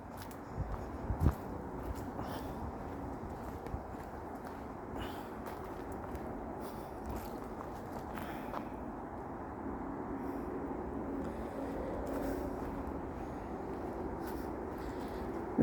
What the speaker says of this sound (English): the traffic noise in the background is from the M54 motorway